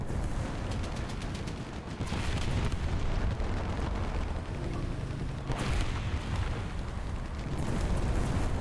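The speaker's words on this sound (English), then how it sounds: "we are being covered by artillery a little bit here" Artillery shells bursting around a tank in the War Thunder video game, a loud, continuous rumble of explosions and crackling blasts with several heavier surges, close and unbroken throughout.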